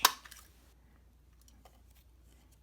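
Paper is trimmed while making a foil lace card: one crisp, close cut at the very start, then only faint rustling and handling noises in a quiet room.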